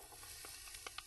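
Garlic sizzles in a hot pan, a faint, steady hiss broken by a few brief pops and crackles close by, with no voices.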